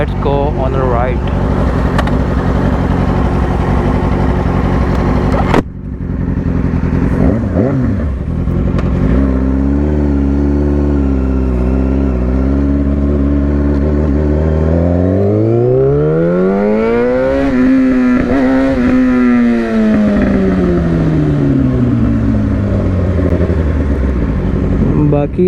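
A Yamaha R6 sport motorcycle pulls away and accelerates, its engine revving up through rising and falling pitch sweeps with gear changes, loud and close, with someone talking over the ride.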